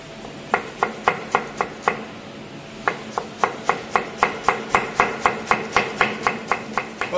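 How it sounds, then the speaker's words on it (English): A knife chops shiitake mushrooms into julienne on a cutting board in crisp, evenly spaced strokes, close and clear, with a brief pause before the steady rhythm resumes; no voices. "So I'll transfer all the shiitake here onto the cutting board and then cut them into julienne."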